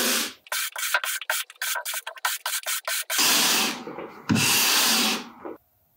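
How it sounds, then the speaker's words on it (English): A copper brush scrubs a snowboard base from tip to tail, first in a quick series of short rasping strokes, then in two long, loud, close sweeping passes. "Open up the pores again with the copper brush, like we did in step 1."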